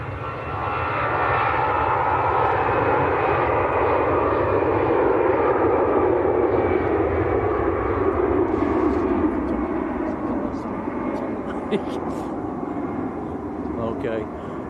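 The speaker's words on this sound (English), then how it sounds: "Aer Lingus on the roll, A320 going back to Dublin." Aer Lingus Airbus A320 taking off at Manchester Airport, a loud continuous jet roar that builds and swells steadily across the whole stretch, heard from the airport perimeter with no speech.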